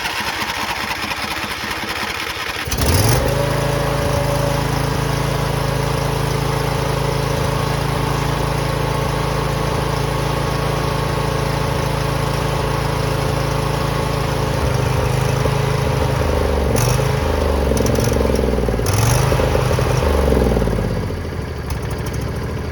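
A neglected John Deere lawn mower engine cranks briefly, then catches and runs at a steady loud drone for about twenty seconds, with some uneven sputtering and clatter near the end before it settles.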